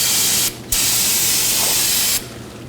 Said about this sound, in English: Now I'm going to take some brake cleaner and clean the whole area before I reinstall my